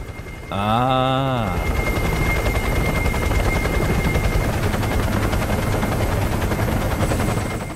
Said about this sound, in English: I swear I parked my helicopter around here. I can hear it.